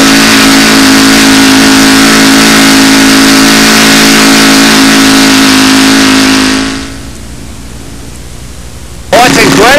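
A model aircraft engine on test runs loud and steady at about 4,000 RPM with a strong constant drone, then is abruptly cut, leaving a quieter hiss before a brief burst of noise at the end.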